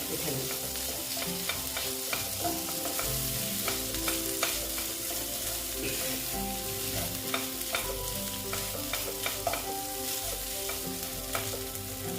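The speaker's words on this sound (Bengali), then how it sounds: "আলুগুলো এখন দিয়ে দিচ্ছি দিয়ে আমি এটাকে আলুটাকে ভালো মতো ভেজে নেবেন" Boiled potatoes frying in a pan, a steady soft sizzle broken by repeated scraping and knocking of a spatula as they are stirred and mashed, close and fairly quiet, no voices.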